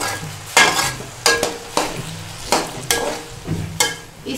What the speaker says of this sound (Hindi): वो मैं इसमें डाल दूंगी और इसे मैं मिक्स करूंगी